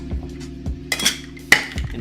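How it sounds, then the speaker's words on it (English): Ice cubes clink and clatter into a cocktail shaker, with a few hard, bright strikes standing out over lighter knocks and rattles, close by and with no talk. "The next step would obviously be fill your shaker with some ice cubes"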